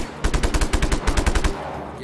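Rapid bursts of gunfire from the Just Cause 3 video game on PS4, loud and close, firing in two quick volleys of repeated shots before cutting off.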